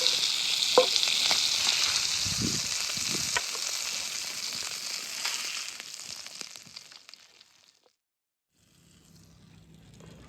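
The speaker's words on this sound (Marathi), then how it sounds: "पहिल्यांदा तळून अजून दुसरं असं तळून घेणार आहे मी" Mackerel (bangda) fish frying in a pan makes a loud, close, continuous sizzle with a few scraping stirs, then fades to near silence before faint outdoor background returns.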